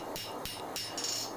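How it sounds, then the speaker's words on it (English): A hammer strikes hot steel while forging a knife blade, giving about four sharp metallic blows at an uneven pace, loud and close with a ringing tail, and no speech. "from the ready thickness, well, then going to hammer in the shape"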